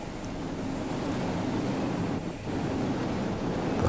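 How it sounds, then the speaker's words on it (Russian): Ocean waves during a December storm on the Atlantic, a steady loud roar of surf and wind noise buffeting the microphone, recorded aboard a ship, continuous with no speech. "чтобы слышать шум океана"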